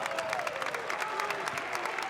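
Crowd at a college fencing championship applauding a scored touch, steady dense clapping filling the whole stretch at moderate loudness, with a few faint voices mixed in.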